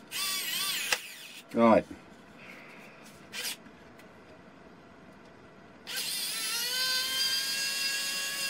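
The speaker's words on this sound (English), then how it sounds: "I can drill down through" Power drill boring down through wood during a woodworking build, heard as a short loud burst followed by a second brief whir, with quieter workshop noise and a single spoken word nearby.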